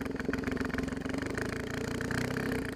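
A Yamaha TTR 250 dirt bike engine runs steadily on a trail, a close, continuous throbbing idle with a low rhythmic pulse and slight rises in revs.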